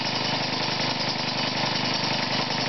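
An experimental air compressor runs steadily, a fast, even mechanical chugging at close range with no pauses across the short stretch.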